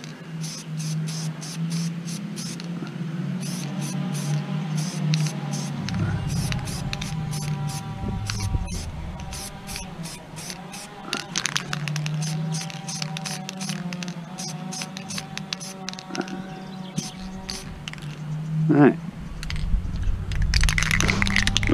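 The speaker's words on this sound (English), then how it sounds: "Keep your distance, put a dust coat on, make sure you shake the can up good." A spray can of satin black paint lays down a dust coat on a plastic RC Jeep body, a steady airy hiss in short bursts broken by pauses and clicks, close and moderately loud.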